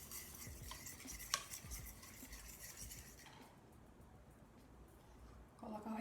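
A flour mixture stirred with vegetable broth for vegan protein scones, with soft, quiet repeated scraping and mixing strokes and a single clink of a utensil, fading to near silence before stirring picks up again.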